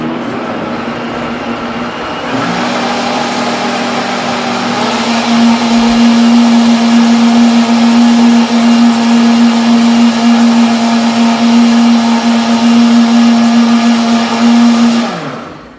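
A blender runs for about fifteen seconds, starting low and steady, then ramping to a louder, strained motor whine as it mixes cake batter of butter, cream cheese and eggs, before cutting off abruptly.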